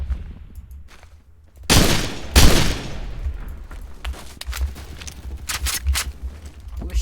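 Gunfire in the Phantom Forces shooter game: a couple of loud, close bursts of shots early on, then scattered fainter shots and clatter, with steady game ambience underneath.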